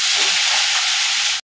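Malabar spinach greens drop into a hot wok and set off a loud, dense, steady hiss of frying that runs without a break and then cuts off sharply.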